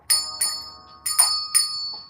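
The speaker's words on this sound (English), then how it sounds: "Ring that bell, baby." A small bell rings in five crisp, bright strikes, each leaving a short shimmering decay, spaced unevenly over about two seconds in a quiet room.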